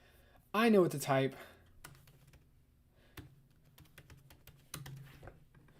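Typing on a computer keyboard, scattered light key clicks and a few heavier taps, close by, following a brief burst of someone talking.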